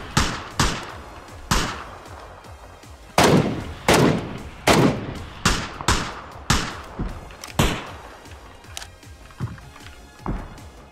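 Gunfire in PUBG echoing from a hillside: a series of sharp single shots, roughly a dozen over several seconds at an uneven pace, loud and punchy with ringing tails, no talking.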